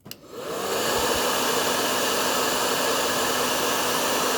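A heat gun blows onto a toy action figure's torso to soften it. It comes on with a short click, then a loud, steady roar of blowing air runs on unbroken and close up, with no one speaking.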